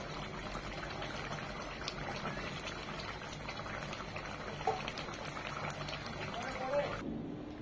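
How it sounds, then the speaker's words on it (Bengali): Ghee is added to chicken roast while it cooks, giving a steady bubbling sizzle with faint liquid trickles. The sound is close and continuous, and it stops abruptly near the end. "নামানোর আগে দিয়ে দেব গাওয়া ঘি 2 চামচ,"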